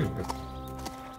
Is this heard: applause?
no